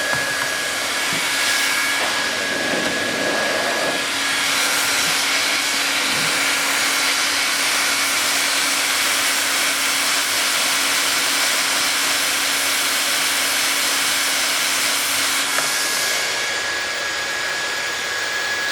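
A hot air plastic welder blows steadily while mending cracked plastic on a crashed R32 drift car, giving a constant, close, whooshing blower hiss with a faint steady whine that runs without a break for the whole stretch.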